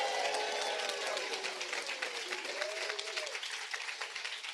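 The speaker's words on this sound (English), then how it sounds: "Please give her a big applause." A crowd applauds at an anti-war movement event, steady broadband clapping that fills the whole stretch, with a few voices faintly audible underneath.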